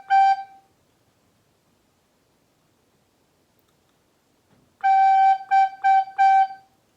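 A recorder sounds a clear note, G with three holes covered: one short tone at first, then after a long silence a rhythmic phrase of one long note and three short ones.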